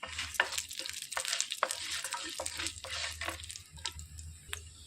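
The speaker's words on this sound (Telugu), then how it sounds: "ఆయిల్ వేడెక్కిందండి. 1 స్పూనుడు తాలింపు గింజలు వేసుకొని" A spoonful of tempering seeds fries in a little hot oil in a pan for carrot chutney, crackling and sizzling softly while a spoon stirs with repeated scraping taps and clinks, close and fairly quiet.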